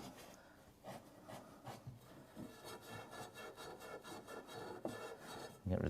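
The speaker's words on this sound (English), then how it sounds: "We're just going to clean up the pipe now." Steel wool scrubbed back and forth over copper pipe to strip the patina before soldering, a steady rasping rub with rhythmic strokes, close and moderately loud with no talking.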